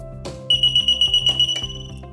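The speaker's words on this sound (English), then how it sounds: "I'm gonna silence that alarm by pressing down on the toggle here." A float alarm on a pump control panel sounds a loud, steady high electronic tone for about a second. Pump and panel hum runs underneath, and the alarm cuts off cleanly.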